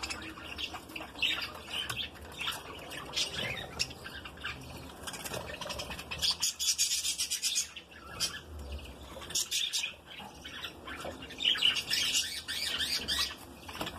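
Young budgerigar chicks in an aviary give a steady stream of chirps and squawks, several birds calling over one another at moderate volume, with occasional wing flutters.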